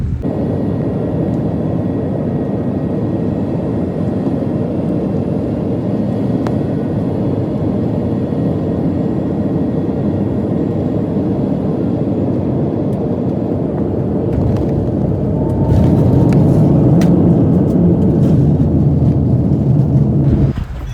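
An airplane rolls to a stop after landing, heard from inside the cabin as a steady loud engine drone and rumble. The drone swells and turns rougher near the end, with no talk.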